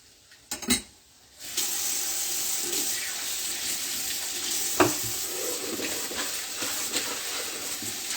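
Eggplant stir-frying in a hot pan sizzles in a steady, close hiss after a brief quiet start. A couple of soft clatters and knocks punctuate it.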